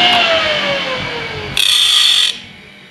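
A motor-driven hole saw grinding in a fixture gives a steady mechanical whir with a falling drone, then a bright, harsh grinding burst for under a second before cutting off.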